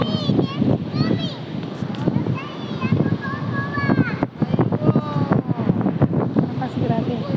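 Strong wind gusts buffet the microphone outdoors among tall buildings and trees, roaring steadily under a person talking throughout.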